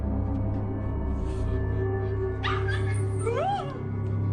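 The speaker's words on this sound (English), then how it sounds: "You better grab that dang dog." A frightened dog whimpers and yelps in short rising cries over a steady low background hum, fairly close.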